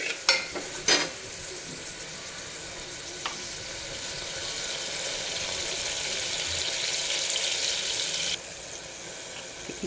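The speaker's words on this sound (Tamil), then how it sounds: "இப்போ ஓரளவு வெங்காயம் தக்காளி வதங்கிடுச்சு." Onion and tomato sautéing in a pan for cauliflower kurma, a close steady sizzle with a few sharp utensil knocks at the start, the frying hiss swelling then dropping off near the end, no talking.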